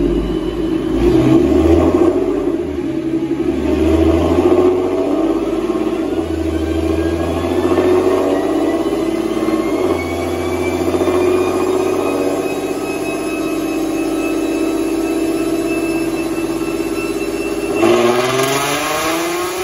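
A Procharged V6 Mustang revs hard on a dyno, engine note climbing steadily through a long full pull with loud, continuous rumble and rising whine, then dropping off near the end.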